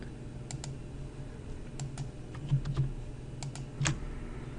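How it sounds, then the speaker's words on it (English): Computer keyboard keys tapped while selecting photos: a handful of quiet, scattered clicks in irregular bursts over a low steady room hum, with no talk. "hold down the Control key on your keyboard, and just select the photos that you would like"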